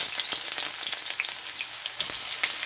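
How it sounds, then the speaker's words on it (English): Red onions sautéing in a pan, a steady close sizzle with scattered crackles and pops running throughout, no voices. "Let's start sautéing our red onions"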